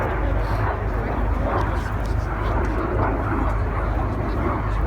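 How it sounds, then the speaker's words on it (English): Red Arrows display team jets fly past at an air show at RAF Cosford with a continuous loud, broad roar. An announcer's voice seems to carry faintly over the engine noise. "Red 1 leading the aircraft in towards us."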